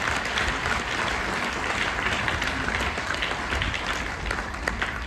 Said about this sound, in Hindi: एक जोरदार ताली अग्रवाल सर के लिए होनी चाहिए